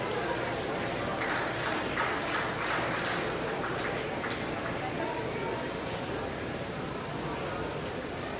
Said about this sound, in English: Let's give that young man a round of applause.